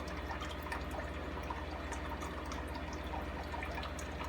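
Water from an aquarium sump pours back steadily into a shell dweller cichlid tank, a faint continuous trickle and splash with a low pump hum underneath.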